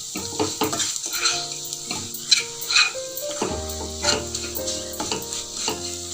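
Potato pieces fry in hot oil for an aloo pickle, a bright steady sizzle under repeated scraping and clinks of a metal spoon stirring against the pan, with no voices.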